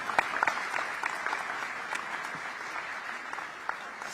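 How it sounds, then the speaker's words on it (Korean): Audience applause of thanks at a Korean community luncheon in Singapore, a steady round of clapping from the crowd that holds evenly for several seconds with no voices over it. "자유 발언을 해주신 모든 분들께 다시 한번 감사의 박수 부탁드리겠습니다."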